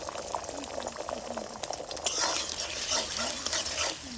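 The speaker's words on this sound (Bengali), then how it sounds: "তেলটা খুব ভালোভাবে গরম হয়ে গেছে এবার ডিমের ব্যাটারটা দিয়ে ডিমটাকে ভেজে নেব" Beaten egg batter, whisked with black pepper, frying in hot oil in a kadai, giving a steady bubbling sizzle with faint stirring clinks throughout, slightly louder in the second half.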